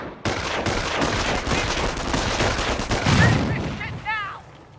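Gunfire and an exploding grenade in the Company of Heroes real-time strategy game: dense, continuous bursts of machine-gun fire and battle noise, then a louder blast near the end, with sharp whistling or ricochet tones after it.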